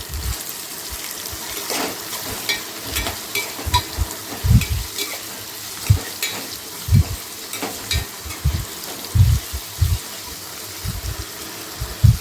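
Dried prawns fry in a pan until light brown, giving a steady crackling sizzle broken by repeated soft knocks and scrapes as they are stirred. No one speaks.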